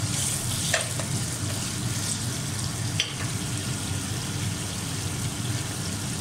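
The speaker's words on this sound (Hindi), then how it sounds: "अब हमने कढ़ाई में 1 कप तेल डाला है, और इसमें हम ये डालेंगे गोश्त जो हमने गला के रखा है।" Pre-cooked mutton sizzles and fries in a cup of hot oil in a karahi, a steady close crackling hiss with a few sharper pops, no voices.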